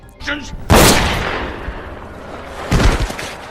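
A gunshot from a film about a father fighting gangsters: a loud, sharp blast with a long rumbling decay, then a second heavy impact about two seconds later, over a dramatic background.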